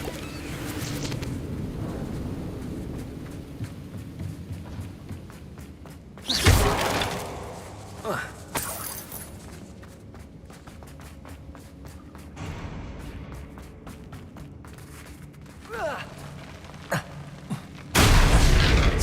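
Confringo fire spells cast in Hogwarts Legacy burst as a few heavy, booming blasts, one near the middle and another at the end, with smaller crackling thuds between over a low rumbling game backdrop.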